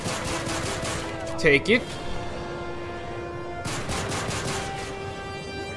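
Call of Duty Modern Warfare 3 gameplay with a short burst of close gunfire over steady game background noise, and a voice speaks briefly.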